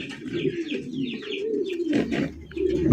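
Pigeons on a pigeon farm cooing steadily in low, throaty rolls, several birds close by, with a busier burst of cooing near the end.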